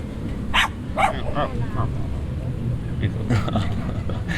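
A dog barks a few short, sharp times, startled by a cat and a fluorescent light outdoors at night, with people talking loosely over and around the barks.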